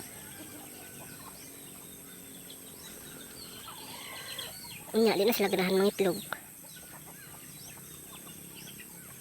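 A native chicken on a farm clucks loudly in a short burst partway through, while a person talks quietly in the background.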